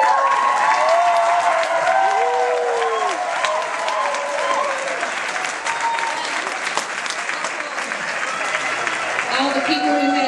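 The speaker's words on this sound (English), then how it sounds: "give them a round of applause" Audience applause for the narrators at a school Bible play, a sustained, even roar of clapping from a large crowd with tonal music or voices drifting underneath at the start and end.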